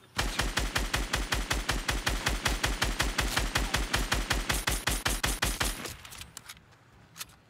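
Sustained automatic gunfire from another player in Fortnite, a rapid, loud, steady burst of dozens of evenly spaced shots that stops abruptly near the end, followed by a few quieter scattered sounds.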